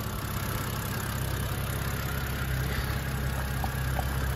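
A 2011 BMW Z4 sDrive23i engine idles steadily with a low, even rumble, continuous and unchanging throughout, recorded close by with no voices.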